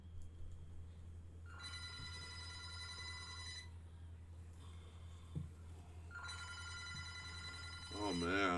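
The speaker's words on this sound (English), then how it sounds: "another phone, this one with push buttons, starts ringing in another room." A push-button telephone rings in another room, two long bursts of electronic trilling separated by a pause, muffled and distant over a low steady hum, with a brief faint voice-like sound at the end.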